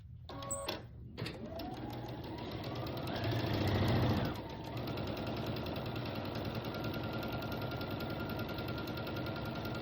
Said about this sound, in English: I'm going to take this last sashing that is 8 inches as well, right sides together